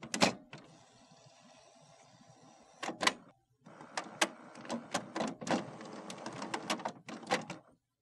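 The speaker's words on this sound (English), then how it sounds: "Wait for the printer to turn on and stop making noise." An HP Photosmart C5180 printer powers on with a whirring carriage and mechanism noise, broken by sharp clicks and clunks, a short pause, then more motor runs and knocks, fairly quiet and close.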